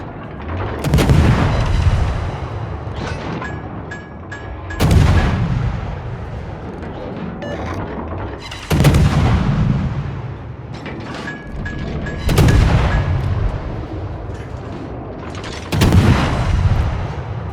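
Booming naval artillery salvos from a cruiser in a World of Warships battle, five loud heavy blasts spaced a few seconds apart, each with a rumbling decay, with no talking over them.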